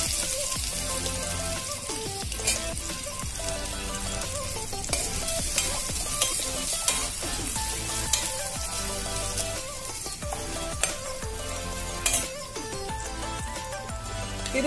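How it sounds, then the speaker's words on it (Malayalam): Onions and green chilies fry in hot oil with a loud, dense, continuous crackling sizzle, dotted with sharper pops and spits throughout, heard close with no talking. "അതൊന്ന് ചൂടാകുമ്പോൾ തന്നെ നമുക്ക് അതിലേക്ക് നമ്മുടെ ഓണിയൻസ് ഇട്ട് കൊടുക്കാം."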